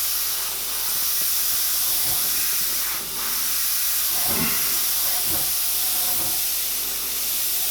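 An airbrush sprays a fine mist of paint for clouds in a lightning scene, a steady close hiss that barely changes, with a few faint handling sounds underneath.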